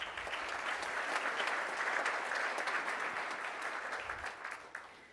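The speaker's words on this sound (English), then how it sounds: "let's give them a round of applause." Sustained applause from a Rotary Club meeting crowd, a dense, even patter of many hands clapping that tapers off slightly at the end.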